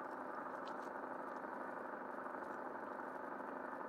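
DAF XF truck engine in the game Truckers of Europe 3, a low steady drone that holds at an even level throughout, faint and without rising pitch.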